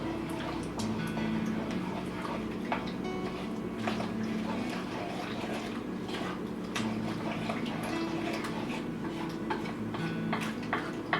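Ingredients for a keto breakfast scramble are mixed in a bowl with quick rhythmic clicks and taps that run steadily and close throughout, over a faint background hum.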